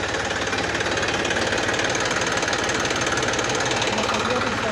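A pickup truck that delivers fodder for an elephant idles close by, giving a steady, rhythmic, knocking engine chug that runs throughout with faint voices underneath.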